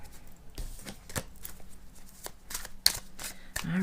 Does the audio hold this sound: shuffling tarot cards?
yes